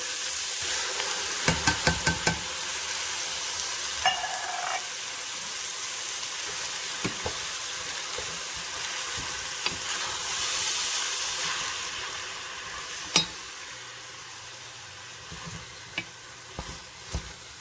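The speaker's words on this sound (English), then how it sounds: "with your wooden spoon or silicone spatula, you want to scrape the bottom of the pan" Chili with canned tomatoes and Rotel sizzles steadily in a pan while a wooden spoon or silicone spatula scrapes and stirs the bottom, with a few sharp knocks early and near the end, close and continuous, no talking.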